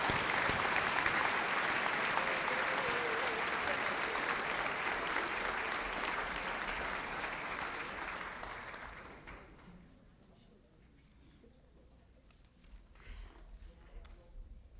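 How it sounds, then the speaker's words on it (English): An audience at an eighth grade awards assembly applauds an award winner with a strong, sustained burst of clapping that fades out after about nine seconds into quieter room sound and a few scattered claps. "So now with a cheer and a round of acclaim"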